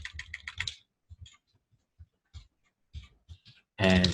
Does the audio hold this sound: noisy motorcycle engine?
no